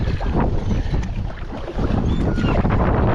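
Strong wind roars steadily across a microphone on open water while paddling a boat, with broadband gusty rumble and faint watery splashes throughout, no voices.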